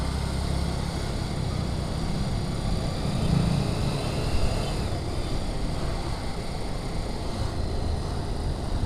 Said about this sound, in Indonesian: Lumayan banyak yang berisik-berisik motornya